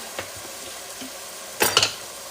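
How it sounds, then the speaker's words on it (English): Steady low frying sizzle of mushrooms in a pot, with a couple of brief clattering stirs near the end, close by and fairly quiet. "I have the mushrooms in the pot sizzling"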